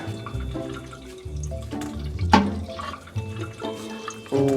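Liquid bubbles and boils in a pot on a home kitchen stove, with irregular pops and gurgles, close and fairly loud, and a sharper burst partway through.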